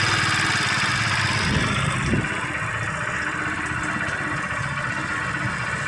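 A Supremo TMX 150 motorcycle engine idles during carburetor adjustment for a misfire: a steady, close, buzzing mid-pitched idle with a brief rev bump partway through, and no one talking.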